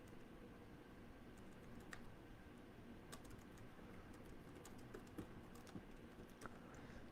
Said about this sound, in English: I'll type it into the chat there